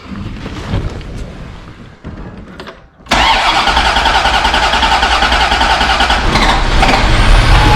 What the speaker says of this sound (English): And even when you crank it, if I crank it here